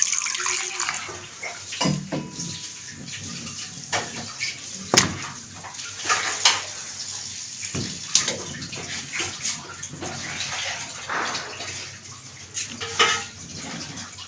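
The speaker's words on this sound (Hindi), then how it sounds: "पानी ऐड करेंगे" Water splashes and pours into a metal pan while cooking kachnar mutton, with clinks of cookware and running water throughout.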